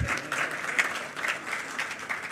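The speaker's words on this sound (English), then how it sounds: "you will applaud all of them" Conference audience at an African Union health meeting in Accra, Ghana, applauding with a sustained, even wash of many hands clapping, moderately distant and without talk.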